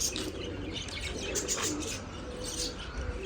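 Pigeons let out of their loft fill the air with soft coos and scattered chirps, over a constant outdoor hiss and brief bursts of flapping wings, with no one speaking.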